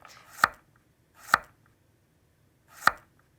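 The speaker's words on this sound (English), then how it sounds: "So I like to start with my carrots because they take longest to cook. So I'll just finely dice these." Three sharp, isolated knife chops on a cutting board as carrots are finely diced, spaced unevenly and close by, with quiet in between.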